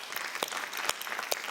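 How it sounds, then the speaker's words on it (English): A conference audience applauding, dense continuous hand clapping with sharper individual claps standing out, moderately loud and unbroken for the short stretch. "we'll have a round of applause for that"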